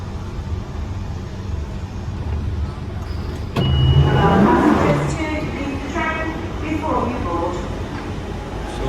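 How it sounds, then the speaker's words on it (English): A London Underground Central Line train rumbles steadily with broad low-frequency noise, then swells louder midway with a sharp clack and squealing tones as it runs and brakes, heard up close. "So I got down from this Central Line train."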